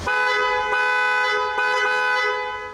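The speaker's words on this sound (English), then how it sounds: "You honk the horn and it sounds like this." A Bentley Turbo R's car horn blares steadily for nearly three seconds, loud and close, its tone flickering briefly a couple of times.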